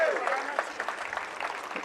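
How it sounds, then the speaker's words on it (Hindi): Audience clapping at a public groundbreaking ceremony in Tulsi Nagar, Indore, a dense wash of many hands under a loudspeaker voice. "तो जरा ताली वाली बजा के बताओ कि ये बनाना चाहिए क्या?"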